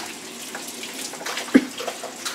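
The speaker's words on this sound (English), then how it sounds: "So we're going to wash the vegetables, that way we don't catch anything weird." Vegetables washed under a running kitchen tap before going into a Ninja blender, a soft steady stream of water with light splashes and one sharp knock, close by and without talking.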